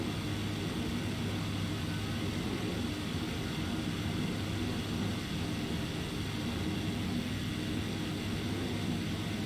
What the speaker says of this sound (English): Lots of little planes zipping around Hawaii.